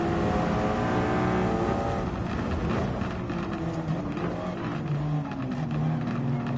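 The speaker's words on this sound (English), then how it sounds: "That is the sweet sound of the Maserati MC20" A loud Maserati MC20 engine with a titanium racing exhaust in Gran Turismo 7 roars steadily, its pitch sliding and shifting as it revs and accelerates, with a raspy exhaust tone and no talking.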